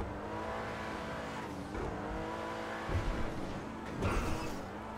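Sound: car accelerating in video game GTA V

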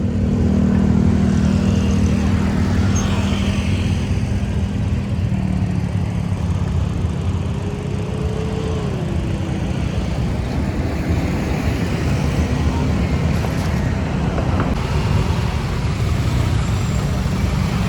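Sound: city road traffic with motorcycles

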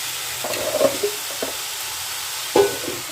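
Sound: fish chop mixture being stirred in a pan

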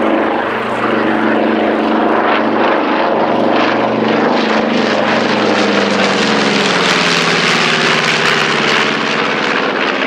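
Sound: B-25 bomber aircraft flying at airshow

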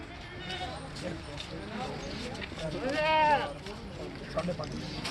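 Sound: goat bleating

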